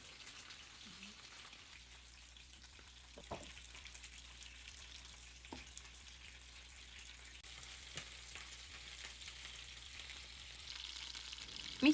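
Meat fries in a pan with a soft, low crackling sizzle and scattered small pops and ticks, faint and close, that grows slightly busier toward the end.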